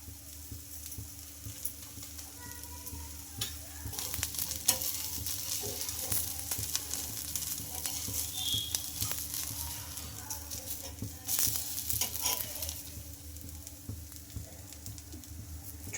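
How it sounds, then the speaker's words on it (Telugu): A carrot mixture fries in oil until golden, a steady close sizzle with intermittent crackles and stirring sounds that grow a little busier midway. "ఇలా బాగా కలర్ మారే వరకు గోల్డెన్ కలర్ వచ్చే వరకు బాగా ఫ్రై చేసుకోవాలి"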